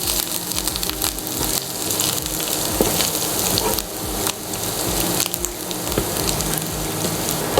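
Finely chopped ginger and garlic sautéing in hot oil in a pan, giving a steady, loud, dense sizzle with crackling pops that runs throughout without a break.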